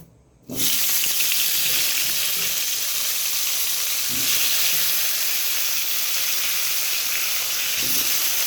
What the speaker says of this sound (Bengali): এইবার আমি মাছ ভাজার তেলগুলিতেই কেটে রাখা আলুগুলিকে ফ্রাই করে নেব।